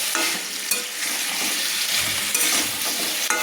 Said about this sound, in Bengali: আমি ফুলকপি আলু ডিম আমি একসঙ্গে কিন্তু কষিয়ে নিচ্ছি